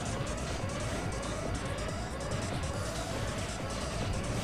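Low-energy warning siren from the racing game F-Zero GX, a repeating rising wail over a loud, dense roar of racing machines, steady and continuous with no talk.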